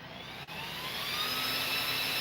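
A small RC motor with its cooling fan and heat sink spins up gently in a soft start, a close steady whirring whine that climbs smoothly in pitch and stays even, alone.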